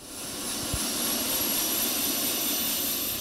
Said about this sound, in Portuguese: Nós vamos entrar agora nesse helicóptero da Receita Federal para acompanhar um dia da Operação Krampus